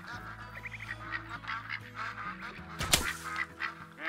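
Ducks in the hunting video game Call of the Wild quacking and honking continuously in the background, a busy overlapping flock with a sharp bang-like burst near the end, moderately loud and steady throughout.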